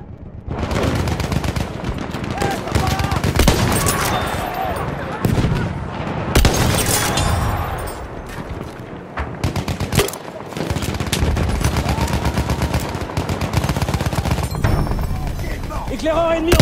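Sustained enemy machine gun fire in a first-person war shooter, dense overlapping bursts and heavy shots filling the whole stretch, loud and continuous with brief gaps, with voices faintly underneath.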